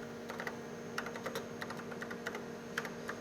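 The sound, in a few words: typing a program on a computer keyboard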